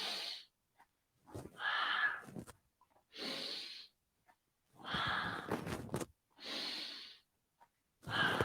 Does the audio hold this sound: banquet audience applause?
no